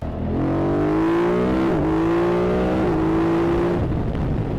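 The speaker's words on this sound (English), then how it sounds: "the sound of its stock now Akrapovic exhaust that adds to that excitement" A BMW F 900 GS motorcycle with its stock Akrapovic exhaust accelerates hard, the engine note climbing steadily through two quick gear changes, loud and close throughout.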